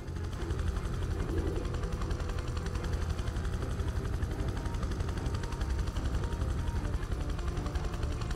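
A helicopter arrives at a helipad in the video game Prototype 2, its steady rotor thrum and engine roar droning continuously at moderate loudness with no voices heard.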